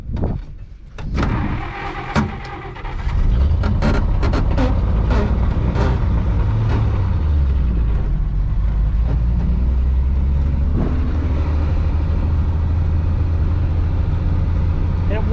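A 1962 Willys Utility Wagon engine that sat unused for 28 years cranks, catches and settles into a loud, steady rumbling run, up close, with a voice speaking near the start.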